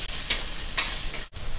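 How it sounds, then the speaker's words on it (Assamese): Onion, ginger, garlic and chili frying in a pan for ridge gourd curry, a steady sizzle broken by two brief bursts as the mix is stirred, close and fairly loud. "এইখিনি এতিয়া অলপ ভাজি ল'ম।"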